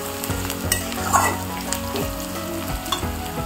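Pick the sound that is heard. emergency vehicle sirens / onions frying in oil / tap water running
onions frying in oil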